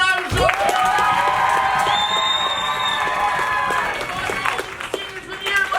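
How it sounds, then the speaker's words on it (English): A school crowd at a seniors-versus-alumni match claps and cheers, with a long sustained whoop and shouting voices riding over the applause before it tapers off. "Applaud now."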